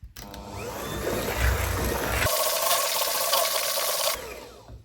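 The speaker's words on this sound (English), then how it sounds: "It's gone a bit gloopier now, you can see, so whisk it up" Whisking a thickening rum butter mixture in a bowl, a close, continuous brisk scraping and churning that shifts in tone partway through before stopping.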